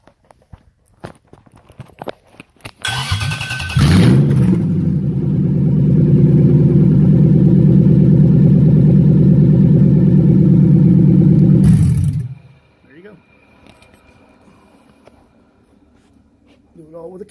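A car engine on a shop stand with minimal wiring is started with a key: a brief cranking catch, then a loud steady mid-pitched idle for about eight seconds before it is shut off, with scattered clatter and handling noises around it.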